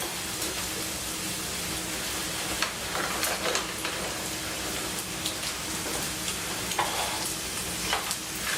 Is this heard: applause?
no